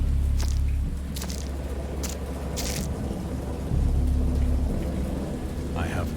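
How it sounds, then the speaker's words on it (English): Thunderstorm in the game Dagon: heavy, constant rain hisses over a deep rolling thunder rumble, with several sharp cracks and splashes standing out close by and a brief faint cry near the end. "Just all of a sudden, crazy storms coming in now."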